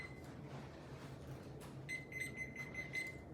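A timer alarm goes off during a 2024 Greenhill quarterfinal debate round, sounding as a steady run of thin repeated beeps over the room's background murmur, moderately loud and lasting about a second and a half.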